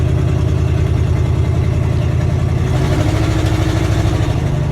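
An old International truck engine runs after revival, loud and close, a steady low rumbling idle with a rough throbbing pulse and a possible exhaust leak, the tone shifting slightly partway through.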